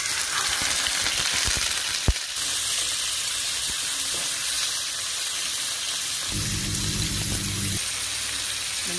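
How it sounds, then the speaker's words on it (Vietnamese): Salted mackerel steaks, washed and drained, fry in a pan with a steady, close sizzle and crackle. A sharp clink sounds partway through, and the frying grows louder and more spattering near the end. "Cái mắm cá thu này mình đã rửa sạch để ráo, giờ mình sẽ chiên nha"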